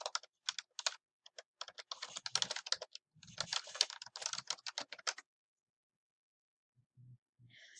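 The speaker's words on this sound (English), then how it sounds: "Type Autumn Family Programs." Fingers type quickly on a computer keyboard, a dense, close run of clicking keystrokes for about five seconds, then silence broken by a few faint taps.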